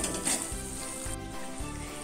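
Green chillies stirred and frying in a pan for chilli garlic chicken: a steady crackling sizzle with faint scraping, accompanied by low sustained tones.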